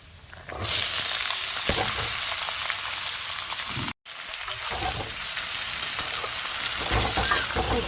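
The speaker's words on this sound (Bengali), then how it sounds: "রসুনটা এই যে ভাজা ভাজা হয়ে গেছে এবার আমি দিয়ে দেবো কচুর লতি" Taro stolons sizzle as they go into oil with already fried garlic, a loud, steady frying hiss with stirring clatter that breaks off briefly midway, then resumes at full strength.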